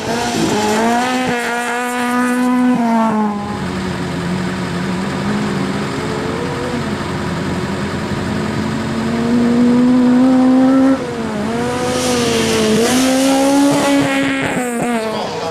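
Autocross cars at Conselve, one front-wheel drive and one rear-wheel drive, including a Fiat Uno, race on a dirt track. Engines rev hard and rise in pitch through the gears, loud and close throughout, with tire squeal mixed into the roar.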